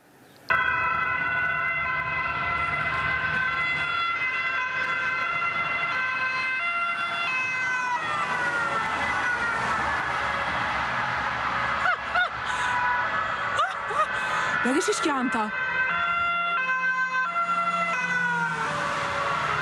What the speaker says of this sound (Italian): Le pattuglie si lanciano all'inseguimento dell'auto con sirene che risuonano per chilometri.